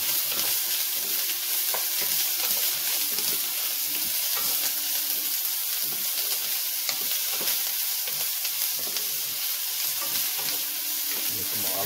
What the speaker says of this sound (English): I'm gonna go ahead and put in my carrots.